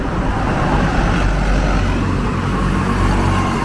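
Steady road traffic on a main road in Southampton, Bermuda, a continuous loud roar of passing cars and trucks with deep low rumble, close by and without speech.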